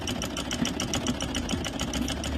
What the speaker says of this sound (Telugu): కుట్టడం స్టార్ట్ చేసాము చూడండి దారం పడుతుందో లేదో మీకే తెలుస్తుంది